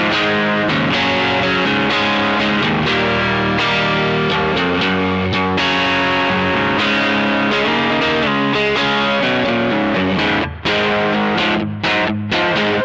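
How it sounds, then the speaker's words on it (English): Electric guitar through a light blues overdrive that boosts the mids and trims the treble, playing a loud, sustained run of chords and notes without a break, then a few choppier strums near the end. "It's used a lot in blues overdrive."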